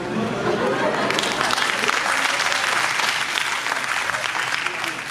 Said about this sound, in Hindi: लड़कियों ने सबसे ज्यादा तालियां बजाई सर इस बात पे